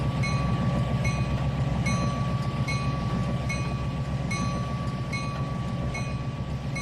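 A train rolls over a level crossing in the Trainz 2019 railway simulator, a steady rumbling drone with a faint repeating clickety-clack of wheels on rail joints and a high sustained tone, even and unbroken throughout.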